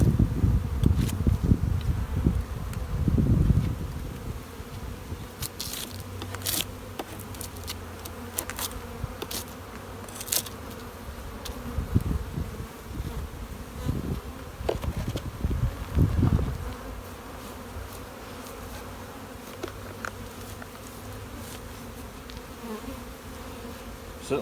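Honey bees buzzing steadily across an open hive during spring inspection, a continuous close drone with louder swells and occasional sharp bursts of individual bees passing near.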